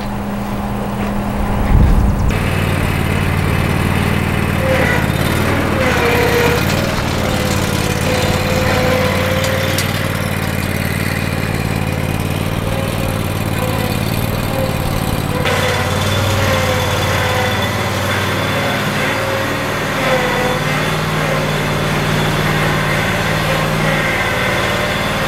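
A Walker H27i riding mower with a cab runs steadily close by, its engine holding a constant droning hum with a brief rough burst near the start and no talking.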